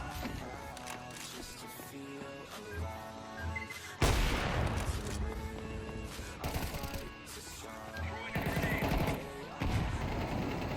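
Gunfire in Counter-Strike 2 plays over a steady musical backing, with a few sharp, loud bursts of shots that rise suddenly out of the mix and die away.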